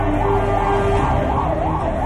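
An ambulance siren on a road wails steadily up and down in a loud, continuous sweep that fills the whole stretch, with no talking.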